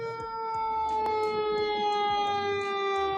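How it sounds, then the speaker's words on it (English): A loud wailing siren rises and falls continuously at a train derailment in Palestine, Ohio, with steady tonal sweeps and a droning mechanical hum underneath. "You're going to be hearing more sirens."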